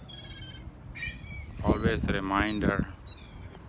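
Birds chirping on Brighton Beach, high thin calls at the start and end, with someone speaking loudly over them in the middle.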